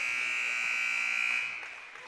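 An end-of-quarter buzzer sounds at an Albany vs Princeton boys basketball game: one loud, sustained electronic tone of about a second and a half that cuts off and gives way to fainter gym noise.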